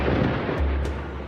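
A thunderclap sound effect rolls as a heavy, continuous low rumble, loud and close, sustained without a sharp crack.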